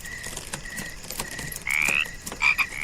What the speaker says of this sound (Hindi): सिर्फ झिंगुरों की और मेंढकों की टर टर की आवाज़ ही आ रही थी